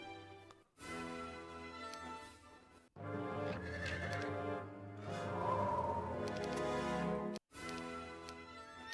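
Horse in a fantasy video game whinnies loudly in long harmonic neighs, with brief silent gaps between calls and a steady clip-clop of hooves running underneath, no talk.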